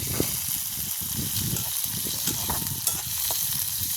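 Onions and fennel seeds sizzle in hot oil in a village kitchen, a steady close frying crackle with brief stirring scrapes and no talking.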